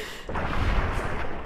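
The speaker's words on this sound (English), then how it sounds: "A gory explosion" A gory explosion in the video game Fallout: New Vegas bursts in abruptly as a loud, booming blast, then lingers with a rough rumbling tail.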